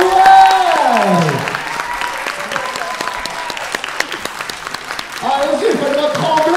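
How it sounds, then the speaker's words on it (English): A convention amphitheatre crowd applauds and cheers for actresses Emilie de Ravin and Emma Caulfield, a loud wash of clapping with whoops, while a voice talks over it and music plays at the start and end. "Applaudissements pour elles."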